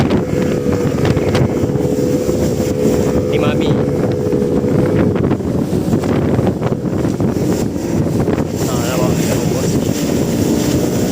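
Motorboat running off Perhentian Island toward Ocean Blue Café, a steady loud engine drone mixed with wind buffeting and water rush throughout, with voices faintly under the noise.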